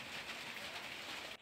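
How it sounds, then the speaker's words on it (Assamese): Hailstorm rain falling in Majuli, Assam, a dense, continuous loud hiss of drops striking surfaces, steady throughout and cutting off abruptly at the end, with no talk. "মাজুলীত বৰ্তমান শিলাবৃষ্টি হোৱাৰ খবৰ লাভ কৰিব পৰা গৈছে"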